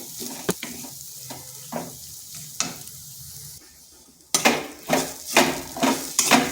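Lentils frying and being stirred in a kadai for a vegetarian radish-greens dish, with a spatula scraping and knocking against the pan in repeated strokes and a steady sizzle, louder in the second half after a brief quiet stretch.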